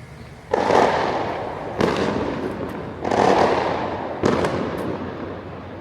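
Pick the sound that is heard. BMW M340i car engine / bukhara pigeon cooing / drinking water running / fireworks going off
fireworks going off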